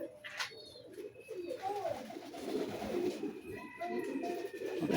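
Pigeons kept in pairs in a home-built wire cage coo softly and repeatedly at close range, their low rolling calls layered over faint background bird chirps.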